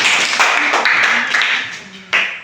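A school group claps hands in a short burst of patter that fades, then ends with a sharper final clap.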